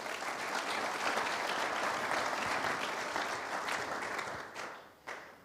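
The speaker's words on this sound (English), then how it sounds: "Please, a round of applause for our eminent panel." Audience applauding a panel at a wealth management and finance event, a dense, steady wash of clapping from a large crowd that holds for about four seconds, then thins and dies away with a final brief burst.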